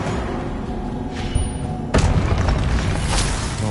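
A magical Confringo spell blast from the Hogwarts Legacy game, a sudden booming thud partway through, rising out of a steady noisy game backdrop and leaving a sustained rumble after the impact.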